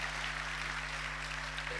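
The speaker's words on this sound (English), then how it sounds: "give Jennifer a round of applause" Talk audience at a Spark.me 2019 conference session applauds, a continuous even wash of clapping with a low steady hum underneath.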